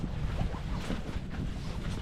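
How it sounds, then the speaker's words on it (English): Strong wind buffets the microphone on a cliffside hiking path on Spain's Caminito del Rey on a cold February day, a steady, close roar of gusts with no talk. "It's cold, it's windy."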